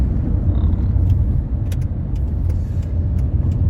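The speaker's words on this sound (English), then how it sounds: "there's a lot of traffic right now on my usual route" Road traffic on a busy route gives a continuous low rumble of cars driving past, with occasional faint clicks and ticks above it.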